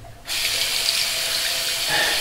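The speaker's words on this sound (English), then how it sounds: "Use some cold water." Cold water runs steadily from a tap into a sink, starting abruptly and flowing loud and close with no other sounds.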